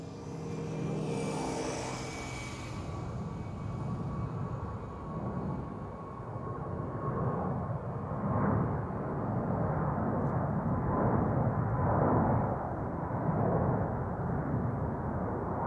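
An Emirates A380 departs an airport runway, its jet roar building from a distant rumble into a loud broad sustained rush that persists throughout, with no voices.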